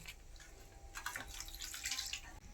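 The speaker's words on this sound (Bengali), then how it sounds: "ডিমটা এখন পরিষ্কার করে জল দিয়ে ধুয়ে নেব।" Katla fish roe is rinsed with water, a soft running splash and trickle of water in a basin, faint and close, with brief surges of washing.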